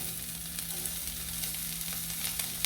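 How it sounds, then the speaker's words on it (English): Olive oil sizzles steadily in a pan as aromatics begin to sauté for Italian arancini, a continuous close frying hiss with faint crackles and no talk. "here I'm adding in some olive oil. You can use any oil of your choice to saute your aromatics."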